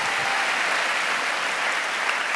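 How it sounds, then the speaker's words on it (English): An audience at a talk bursts into dense, continuous applause, loud and close, filling the whole moment without a break. "I wasn't expecting you to applaud, but thank you so much."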